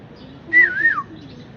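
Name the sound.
pet parrot whistling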